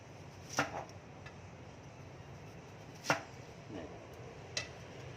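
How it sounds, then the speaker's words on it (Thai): Knife chopping vegetables on a cutting board while preparing sweet-and-sour grouper, a few separate sharp thuds spaced apart, close and fairly quiet with no talking. "เสร็จแล้วก็หั่น หั่นนี่มันแล้วแต่นะฮะ บางคนก็หั่นตำยาว บางคนก็หั่นขวาง"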